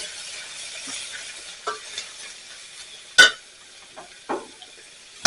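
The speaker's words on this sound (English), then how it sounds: "Now let's go ahead and add our garlic." Garlic hitting a hot pan, with quiet stirring and soft sizzling broken by a few sharp clinks of utensil against metal.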